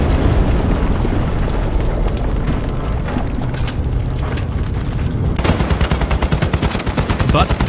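German gunfire in a battle: dense bursts of rapid machine-gun and rifle shots with booming impacts, loud and continuous, growing sharper and more rhythmic toward the end.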